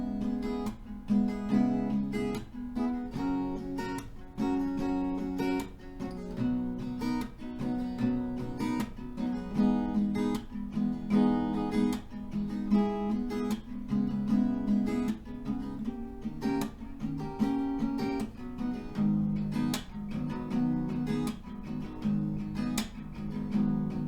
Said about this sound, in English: So one round of that chord progression with the strumming will sound like this.